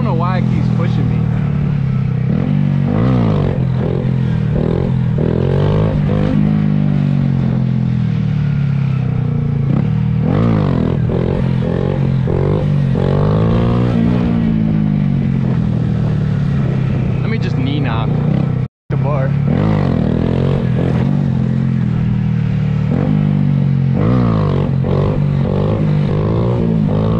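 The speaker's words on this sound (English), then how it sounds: "Dirt bike." A dirt bike engine revs and rises and falls in pitch at a stunt lot, loud and close, with steady mechanical clatter and a brief cut near the end, under continuous talk.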